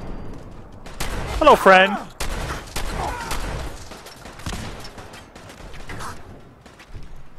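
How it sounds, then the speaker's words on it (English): Gunfire in Fallout 4 crackles in a burst of sharp shots with mechanical clatter, followed by scattered further shots, with a voice speaking briefly over the sounds. "I'm going to shoot you in the head like 3 times"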